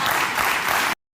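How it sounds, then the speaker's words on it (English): Crowd applause in a played recording at a Democratic Socialists of America gathering, a dense burst of clapping that cuts off abruptly. "Why are they applauding this?"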